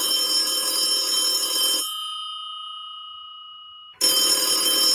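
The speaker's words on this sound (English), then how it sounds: "Ring the phone again, Kyle." A telephone ringing alone, loud and close, with a steady tone that cuts off after a few seconds and then starts again.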